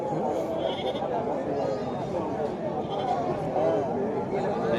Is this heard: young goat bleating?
yes